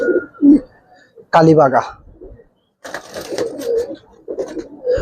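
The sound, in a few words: Giribaz pigeons cooing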